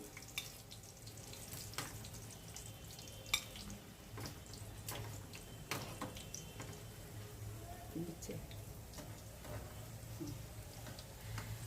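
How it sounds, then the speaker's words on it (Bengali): Sausages frying in a pan for an iftar meal, a steady low sizzle with scattered crackles and pops. Kitchen clatter and faint water sounds rise now and then under the frying. "ইফতারির জন্য সসেস ভেজে নিচ্ছি"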